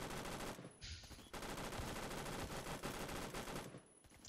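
Rapid automatic gunfire from a light machine gun in the online shooter game Phantom Forces, loud, dense bursts nearly filling the stretch with short pauses between volleys.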